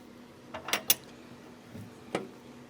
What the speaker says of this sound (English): So now we're going to turn off the fan and close the vent and open the ball valve.